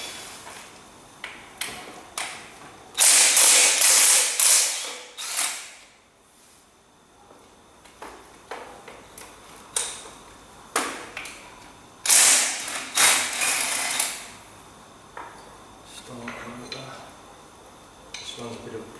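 Ratchet working loose the bolts on a Ferguson TEA20 tractor during restoration, in bursts of close, rapid clicking with pauses and metallic knocks between them.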